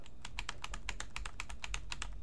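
Fast, steady clicking of keys on a computer keyboard, close up and fairly quiet, with no talking.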